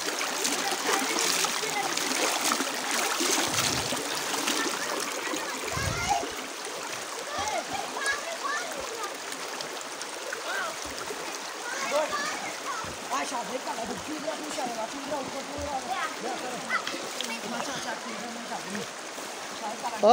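Children swim in a clear, cold Kashmir lake, their splashing a constant wash of water with scattered sharper slaps, while kids' voices and shouts carry through the scene.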